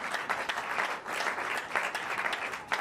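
A church congregation applauds and claps continuously, dense and loud, filling the space for a few seconds with small swells in intensity.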